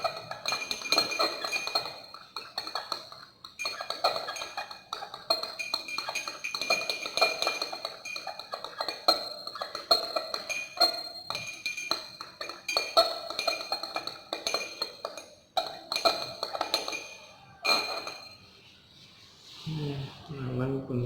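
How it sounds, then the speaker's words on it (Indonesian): A glass rod stirs a mixture containing 20 ml of hydrochloric acid in glassware during a chemistry lab practical, giving a continuous run of rapid, close, bright clinking and tinkling that stops near the end, with some talk in the room. "kita campurkan dengan 20 ml HCl. Kemudian kita aduk"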